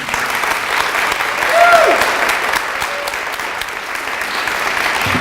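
Applause for storyteller Sarah Mellinger of Grant High School at a student story slam, continuous clapping from a crowd with a faint whoop rising briefly in the middle.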